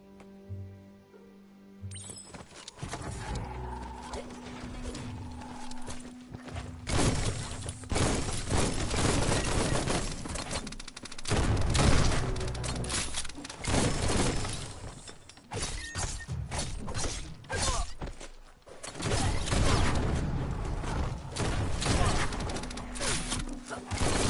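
Gunfire in the video game Biomount, dense bursts of shots crackling almost without pause over a sustained battle din, loud and close, with heavy impacts mixed in.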